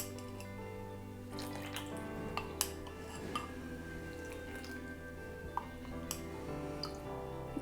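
Cold ice water trickles and drips into a well in peach cobbler dough in a kitchen, with faint splashes and a few light clinks of a bowl or utensil over steady background hum; no talking.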